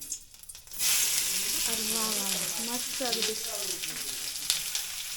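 Onion frying in oil for a village chicken feast, a continuous bright sizzle that rises sharply after a quiet start, with people talking over it.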